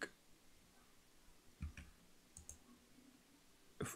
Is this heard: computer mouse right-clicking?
yes